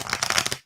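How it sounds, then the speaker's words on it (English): Tarot cards are shuffled up close in quick, crisp riffling bursts that stop abruptly, followed by one faint final tap. "Shuffling cards for you."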